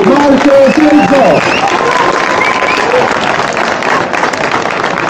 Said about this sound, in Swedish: En applåd för Marcus Ericsson.